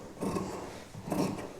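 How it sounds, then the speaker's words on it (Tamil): Scissors cut through fabric for a long frock in two short, soft rasping strokes, close and quiet. "இப்போ நான் இந்த அளவு அப்படியே கட் பண்ணி எடுக்க போகிறேன்."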